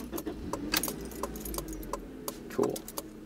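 Car keys jangle and click as a key goes into the ignition during an electrical check on a car, with a series of short, bright metallic jingles over a low steady hum, fairly quiet and close, with no talking.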